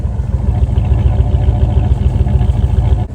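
A car engine that had sat unused for a year and a half runs loud and close with a rough, pulsing clatter, holding a steady throb before cutting off abruptly near the end.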